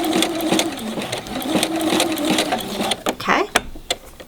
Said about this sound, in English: now I'm going to show you what it looks like with a very loose thread tension